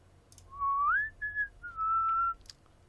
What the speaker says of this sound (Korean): 휘파람 소리였습니다